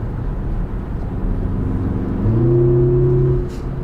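A 2018 Porsche Macan Sport Edition heard from inside while driving, a steady engine and road rumble that swells into a brief rising rev before settling, fairly loud with no talking.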